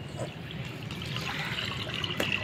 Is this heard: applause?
no